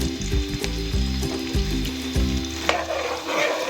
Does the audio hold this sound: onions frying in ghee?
yes